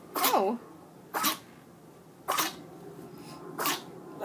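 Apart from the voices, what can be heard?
puppy sneezing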